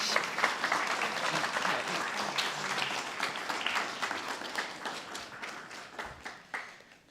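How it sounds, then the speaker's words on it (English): An audience applauds graduating guide dog teams at a Guide Dogs for the Blind graduation, many hands clapping in a sustained patter that gradually thins into sparser individual claps toward the end. "Let's have another big round of applause for all of our graduating teams."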